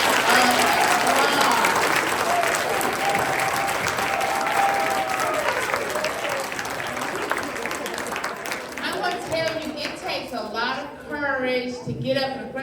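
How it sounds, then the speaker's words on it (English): Sustained applause from an audience at a school spelling bee, loud and steady for several seconds before tapering off as a voice begins speaking. "let's give these boys and girls a huge round of applause"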